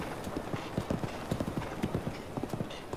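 Horse hooves clip-clopping in Breath of the Wild, a steady run of close, distinct footfalls at a walking pace, with no talk over them.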